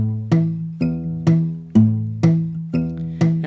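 Fingerstyle guitar thumb plucking steady alternating bass notes, about two per second, each a clear ringing pluck that decays before the next, played alone and close.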